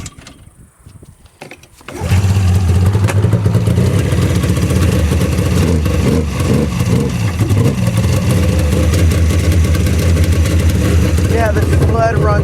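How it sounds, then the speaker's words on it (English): A 1997 Polaris Ultra 600 snowmobile engine catches after a choked cold start and settles into a loud, steady two-stroke idle with slight revving, following a short quiet stretch at the beginning. "Yeah, the sled runs beautiful."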